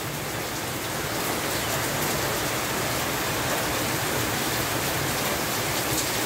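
Steady rain falls in the mountains, making a dense, even hiss of drops with no break or change for the whole stretch.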